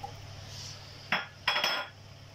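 A 200 g block of butter goes into a cooking pot for chicken hareesa, giving a couple of short metallic clatters and scrapes of utensil against pot, close and fairly loud with kitchen hum beneath.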